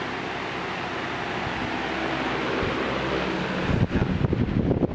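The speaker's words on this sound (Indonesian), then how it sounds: "anginnya lumayan besar untuk kipas begini" A Vanco 18-inch industrial wall fan runs at speed, a loud, steady broadband whoosh of moving air close to the microphone, with buffeting gusts near the end.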